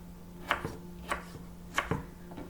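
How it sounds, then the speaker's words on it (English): A sharp knife chops vegetables on a board for homemade salsa, four or five distinct, close, unhurried thuds spaced about half a second apart with no talking. "Keep chopping."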